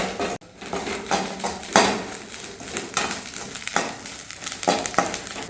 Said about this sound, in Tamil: இந்த மாதிரி இதுக்கு நல்லா வறுக்கட்டும் தேங்காய்.